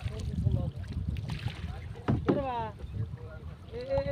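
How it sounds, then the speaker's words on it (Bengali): A rowboat moves across the open flood waters of Chalan Beel, with soft water sloshing and breezy wind noise while voices talk intermittently over it. "নৌকা"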